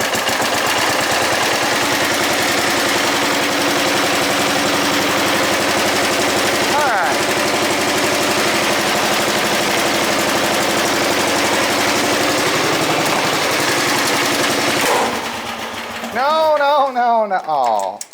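A Bolens GroundsKeeper tractor engine cold-starts with a loud, rapid, sputtering mechanical chatter that runs steadily, then cuts off abruptly and gives way to voices.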